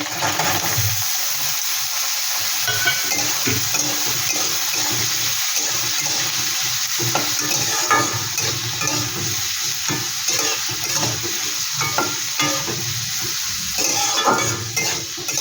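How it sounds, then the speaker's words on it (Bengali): Potatoes frying in a pan with onion, garlic and ginger for an egg Maggi dish, a steady close sizzle broken by frequent scraping and stirring clatter, with no voices. "আলুটা একটু ভেজে নেব ভালো করে"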